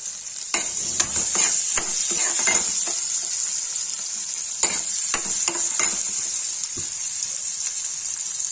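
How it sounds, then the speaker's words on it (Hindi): Onions fry with cumin in a pan for karela do pyaza, a bright, constant sizzle close by, with clusters of spatula scrapes and stirring knocks throughout. "अब इसे प्याज डाल भूनेंगे"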